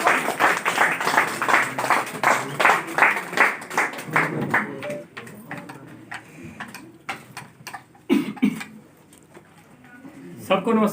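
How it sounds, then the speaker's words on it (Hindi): An audience in a company training session claps loudly for its trainer, with rhythmic, steady applause that fades into scattered claps while someone speaks over it. "एक बार जोरदार तालियां हमारे गुरु जी के लिए, जोरदार तालियां"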